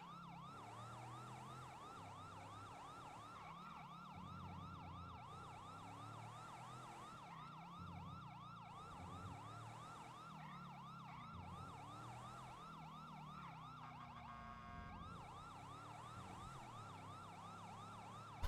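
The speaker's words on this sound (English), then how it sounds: "I forgot to put the sirens back in." A synthetic police siren in the video game FiveM wails in a steady, repeating up-and-down cycle, with a brief switch to a faster yelp near the end, over low road rumble.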